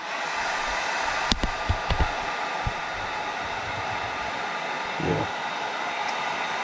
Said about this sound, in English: get the heat gun here fired up